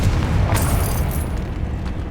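Confringo fire spell explosion in the Hogwarts Legacy video game: a loud, sustained low booming blast with a bright burst near the start, rumbling on without pause through the clip.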